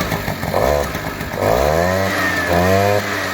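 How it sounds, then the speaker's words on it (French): A moped's small two-stroke engine starting, revving sharply in rising bursts, buzzing loudly and close with a raspy, high-pitched whine. "Le démarrage, ça craque tout de suite, ça tombe plutôt fort."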